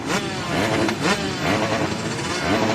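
Several motocross motorcycle engines running and revving together at the start of an Arena Cross race, a loud dense mechanical drone with rising throttle blips, heard under crowd and announcer noise.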